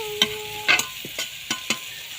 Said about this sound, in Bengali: উচ্ছেটা প্রায় ভাজা হয়ে এসছে।